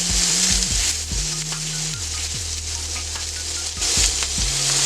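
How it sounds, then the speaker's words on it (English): Chicken wings on a Steelmadeusa steel griddle, giving a loud, steady hiss of frying fat with scraping and knocking of a spatula as the wings are flipped, close up and without talk. "I'm going to start to flip these"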